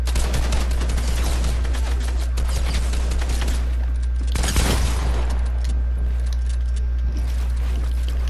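Gunfire in the video game Fortnite: dense, rapid volleys of shots crackle continuously over a constant low rumble, with a sharper, louder burst partway through.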